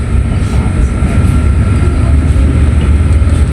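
A Jakatingkir passenger train sits on track 4 of an Indonesian station, giving a loud, steady, close low rumble with a constant droning hum and no break for the full stretch.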